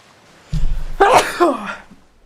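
A single sharp human sneeze, a short intake then an abrupt burst, close and loud in an otherwise quiet room, fading out quickly afterward.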